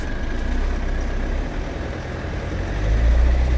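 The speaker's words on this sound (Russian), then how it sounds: "Двигатель работает, но делает шум." A car engine idling roughly and misfiring, shaking as it runs, heard as a steady low rumble close by that swells louder toward the end, with no talk.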